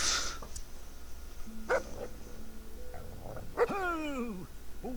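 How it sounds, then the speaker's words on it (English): A stray dog in the video game Fable 2 lets out several sharp, angry barks and yelps at close range, spaced irregularly, the last ones sliding down in pitch like whines. "There's a nice, angry, stray dog. Quiet, boy."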